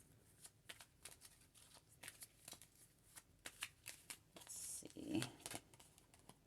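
Tarot cards riffled and shuffled by hand at close range, a run of crisp papery flicks and taps in an irregular rhythm, with a louder burst of riffling near the end.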